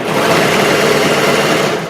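Sewing machine stitching dress fabric, a steady rapid whir that runs loud and close for the whole two seconds with no pauses.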